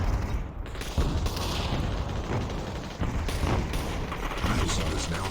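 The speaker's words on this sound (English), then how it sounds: "Cryptic, a lot of shots going in on them." Gunfire from the virtual-reality battle royale game Population: ONE, with dense volleys of overlapping shots and mechanical clatter rattling continuously at steady loudness.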